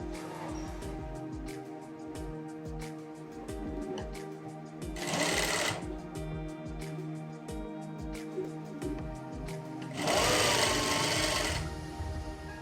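An electric sewing machine stitches folded fabric for a girl's skirt and blouse with a steady rapid needle clatter, close up, rising into two louder, faster bursts partway through.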